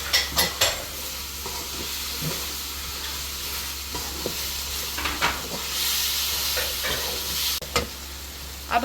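A pot of vegetables, water and a chicken stock cube being stirred while it sizzles and hisses, with repeated knocks and scrapes of the spoon against the pot over a low steady hum.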